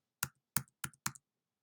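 Four separate keystrokes on a computer keyboard while editing a Squarespace website, crisp close clicks spaced unevenly over about a second, with silence around them.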